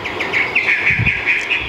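A hwamei songbird calls in a short burst of bright, rapid whistled notes, close and clear, with a few faint lower chirps underneath.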